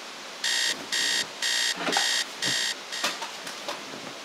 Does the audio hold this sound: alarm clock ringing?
yes